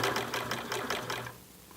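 A blind hemmer machine stitches in a quick, even rhythm of regular clacking pulses for over a second, then stops and leaves a faint quiet; close and moderately soft.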